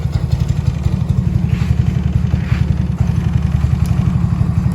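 An old Yamaha Nouvo scooter engine with its top end freshly rebuilt idles loud and close, a steady rapid putter with a faint metallic clatter throughout.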